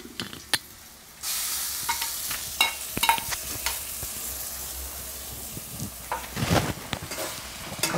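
Konkani-style wet coconut masala paste being stirred and fried in oil with fresh cashews, with soft continuous sizzling broken by repeated scraping stir strokes and clinks of the spoon against the pan, close and fairly quiet.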